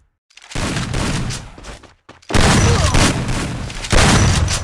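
Loud bursts of grenade explosions and rapid gunfire from a video game, two heavy rumbling blasts with a short gap between them.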